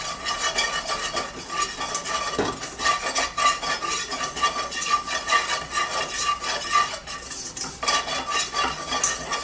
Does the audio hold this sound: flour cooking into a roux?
yes